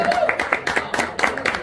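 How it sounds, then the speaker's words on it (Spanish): Lively audience clapping welcomes a performer at a folk music show, a quick run of claps mixed with crowd noise and overlapping voices. "lo recibimos con un fuerte aplauso, Arielito"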